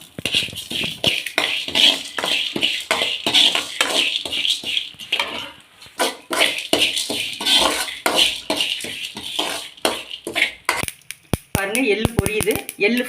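Sesame seeds dry-roast in a pan for idli podi, with constant crackling, popping and scraping of a spoon against metal, close and busy throughout.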